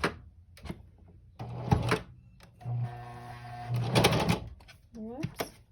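A sewing machine stitching a back stitch on a baby burp cloth runs in short whirring bursts with pauses between, close and moderately loud.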